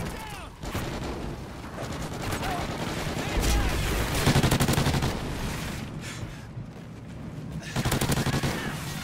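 Heavy, continuous gunfire in Call of Duty Ghosts, with dense overlapping volleys and bursts that swell and ease throughout, loud and close, with a few booming impacts mixed in.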